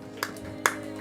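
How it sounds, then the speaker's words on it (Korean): A few scattered hand claps ring out during a Sunday church service, three sharp isolated claps spaced unevenly against a low sustained background tone. "막 박수가 절로 나옵니다."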